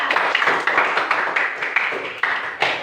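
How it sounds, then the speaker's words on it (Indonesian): A group gives a short burst of applause for a classroom group presentation, dense close clapping that runs steadily for a few seconds. "Tepuk tangan dulu untuk kelompok 2."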